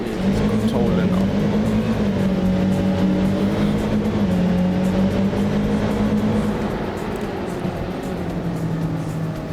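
A car in the driving simulator BeamNG, a modded vehicle, runs at high speed with a loud, steady engine drone holding a constant pitch, easing slightly toward the end of the run.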